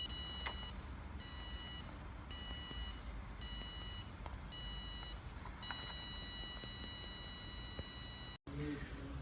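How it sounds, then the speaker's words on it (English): Beeps from a buzzer driven by an ultrasonic ranger in a parking sensor setup, sounding as steady repeated high tones that run almost continuously for several seconds over a low background hum. "So while something is getting closer to the ranger, it's making the buzzer go off and constantly be on."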